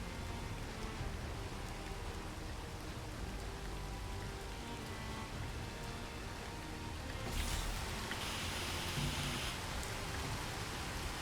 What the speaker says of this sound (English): Now it's raining, now I can't see.